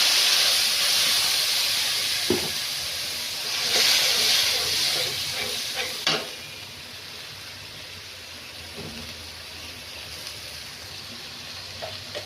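Beetroot dropped into hot oil in a pan gives a loud continuous sizzling hiss that swells and then settles into steady frying, with a few faint clicks and knocks and no speech.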